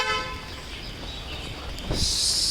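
The horn of a 2020 Hyundai Creta EX rings out at the very start and quickly dies away, followed by quiet outdoor ambience and a soft rushing noise near the end.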